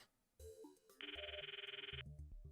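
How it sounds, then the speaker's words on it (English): In the Steins;Gate Elite video game, a phone call to a microwave with a phone taped on rings out as a loud, steady electronic ringtone pulsing for about a second, after short tonal beeps and before low rumbling. "I just need to call the Phone Wave."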